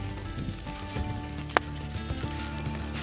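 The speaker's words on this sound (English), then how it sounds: "So all we're trying to do is just get a sear on one side" Venison seasoned with Montreal steak seasoning sears over a blazing hot open fire, giving a steady, close, crackling sizzle throughout with one sharp pop midway.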